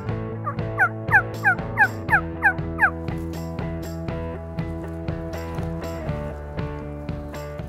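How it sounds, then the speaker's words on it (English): A series of loud, warbling wild turkey gobbles repeats rapidly in the first few seconds, then fades into a steady low rumble of background noise, during a hunt in Chama, New Mexico. "we did hear some gobbles and started calling"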